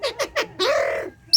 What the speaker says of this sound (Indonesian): Ini suara kokok yang secara langsung dari Siamese Fireback Pigeon